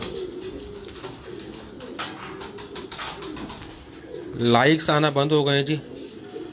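Pigeons coo on a rooftop in Larkana, Sindh, a burst of rolling, throaty calls rising loud and close midway, with someone talking before and around them.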